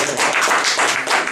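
A room audience at a speaking event claps in a dense, fairly loud burst of applause that runs briefly and steadily.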